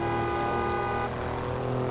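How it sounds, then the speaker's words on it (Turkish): A car horn on a motorway sounds steadily for about a second, then cuts out under ongoing road and engine noise inside a moving car. "Ne kadar Niye da kornaya basıyorsun abi?"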